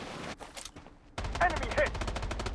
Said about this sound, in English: Defensive turret activated.